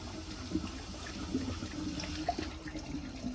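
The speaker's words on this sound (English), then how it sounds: "Well, wow, it actually triple flushed." Water runs and gurgles in a 1951 Crane Neuday toilet on a flushometer valve as it flushes a third time, a soft steady trickle with small splashy bursts, heard close and without voices.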